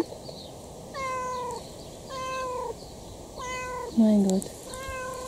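A cat meows repeatedly in drawn-out, tonal calls spaced about a second apart, close and clear over a quiet background, with a brief lower voice breaking in near the end.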